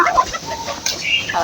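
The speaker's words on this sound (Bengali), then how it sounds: "কবুতরের সাথে সাথে মুরগি আর মোরগেও খাচ্ছে খাবার।" Chickens and a rooster cluck softly while pecking feed alongside pigeons, short irregular clucks and scratchy pecking sounds close by, with some voices in the background.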